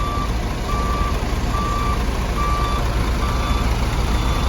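A bus turning around on a long-distance road trip from Jakarta to Bukittinggi sounds its reversing alarm: a loud, regular series of evenly spaced beeps over heavy engine and road noise.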